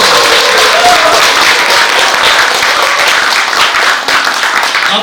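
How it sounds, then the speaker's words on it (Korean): Audience applause at a Buddhist monk's book-launch dharma gathering, dense sustained clapping from a crowd filling the whole stretch at steady loudness, no speech over it. "이때 박수 쳐요."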